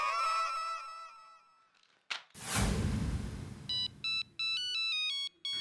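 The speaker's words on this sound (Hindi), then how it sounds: "अरे तुम्हारा फोन बोल रहा है" Phone ringtone ringing in a home, a bright electronic tone repeating in short regular bursts after a brief noisy clatter.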